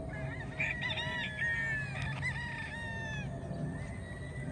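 Chickens and roosters at a poultry farm, several crows and clucks overlapping in a steady barnyard chorus, fairly close, with low background rumble and no talking.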